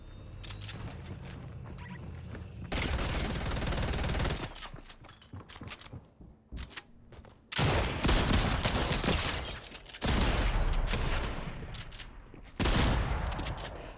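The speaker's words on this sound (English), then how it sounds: "I can hear a guy charging up his charge SMG" Charge SMG gunfire in Fortnite, long loud bursts of rapid automatic fire that come in several separate volleys with brief gaps and scattered single shots between them, close and dense, with no talking.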